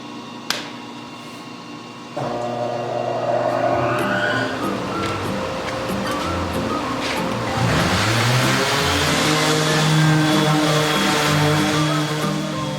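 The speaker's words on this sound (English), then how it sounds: "So I'm gonna sand this and see what it looks like. I'm starting with 80 grit." A power sander with 80-grit paper works across wood on a treadle table. After a short quiet start, its motor whirs up to a continuous buzzing drone that grows louder partway through and holds steady to the end.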